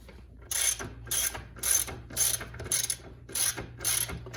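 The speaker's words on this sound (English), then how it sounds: "These have a 21 mil nut, so we'll go ahead and break that loose." Ratcheting wrench clicking as it breaks loose a 21 mm fork nut on a dirt bike suspension, a steady series of sharp ratchet strokes repeating about twice a second, close and clear with no talk.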